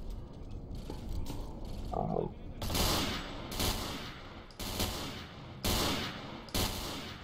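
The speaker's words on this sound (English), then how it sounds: "I'm guessing they're shooting at the boars." Gunfire in the survival shooter Misery, aimed at boars: a run of sharp, loud shot bursts about once a second, each with a short rumbling tail, over a constant low game ambience.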